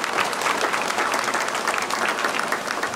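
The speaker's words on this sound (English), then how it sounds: "let's give all the folks that showed here a round of applause" A crowd at a county junior livestock show claps for the exhibitors, a dense, steady wash of applause carrying evenly through the whole stretch with no talking over it.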